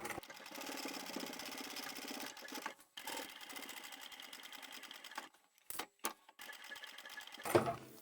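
Sewing machine stitching through a folded necktie wallet with extra bulk, running in steady bursts that stop and restart, with short pauses and a back stitch near the end; close and alone.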